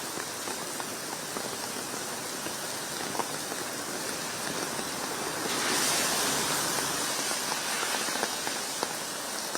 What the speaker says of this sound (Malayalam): കനത്ത മഴയാണ്.